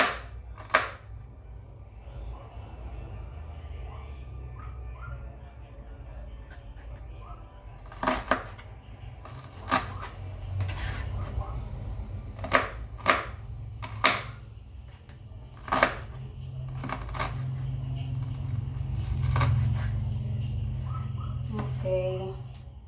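Kitchen knife chopping garlic and onion on a board, a dull hard-to-use blade: scattered sharp chops and clusters of knife strikes over a steady low background hum, fairly close.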